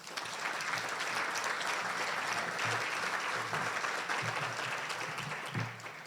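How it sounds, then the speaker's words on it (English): A room full of people at a Chamber of Commerce gathering claps for new members. The applause is sustained and even for several seconds before tapering slightly at the end. "Let's give our new members a big round of applause."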